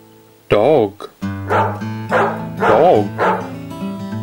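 A dog barking in a children's first-words video about pets, several close, loud bow-wow barks and yips in a row over a light musical bed.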